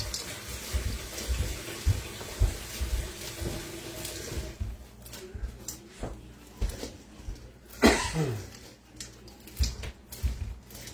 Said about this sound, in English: let's get water in this bowl